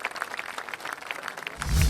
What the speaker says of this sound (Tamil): ஒரு பலத்த கைத்தட்டல் கொடுத்துருங்க 2 பேருக்கும்.